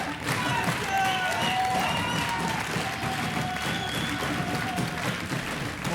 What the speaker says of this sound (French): je voudrais que tous ensemble, nous applaudissions notre ami Pierre pour son baptême d'animateur télé